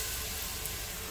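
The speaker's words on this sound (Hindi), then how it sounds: "मैं हल्का सा इसको फ्राई करूंगी।" Onions frying lightly in oil for Arabian mandi rice, a brief even sizzle close up that ends in a sharp burst of hiss, without voices.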